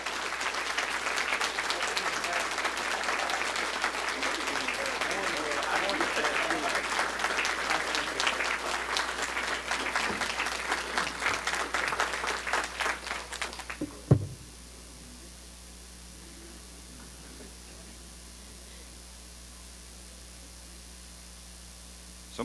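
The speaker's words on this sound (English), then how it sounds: "do you mind standing up and giving these guys and gals a round of applause?" Sustained applause from a church congregation during morning worship fills the first fourteen seconds, then stops abruptly, leaving a quiet room with a faint hum.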